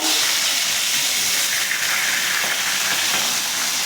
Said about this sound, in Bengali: মাছের মাথাটা ভালো করে ভাজবো